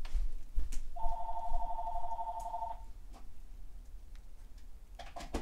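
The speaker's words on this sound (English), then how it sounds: "Excuse me a second, phone is ringing." A telephone rings indoors with a single sustained electronic trill lasting about two seconds, fairly clear against a quiet background with faint room noise.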